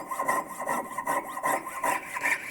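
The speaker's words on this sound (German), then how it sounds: "Das Messing geht zum Glück also einigermaßen gut zum Sägen." A hand saw cutting through brass stock for a wristwatch part at a watchmaker's bench, with steady, rhythmic back-and-forth rasping strokes, close and loud, about six strokes in quick succession.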